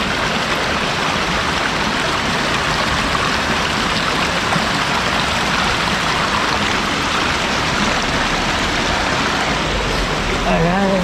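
Water of the Magbais River in Claveria, Misamis Oriental rushes steadily under a bridge, a loud, continuous broadband wash that stays even from start to finish, with a voice briefly heard near the end.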